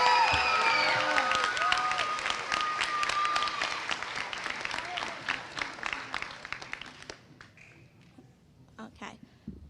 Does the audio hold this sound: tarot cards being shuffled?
no